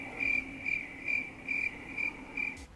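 Crickets chirp in the Minecraft video game, six evenly spaced chirps in a steady rhythm with no voices, ending with a brief soft thump.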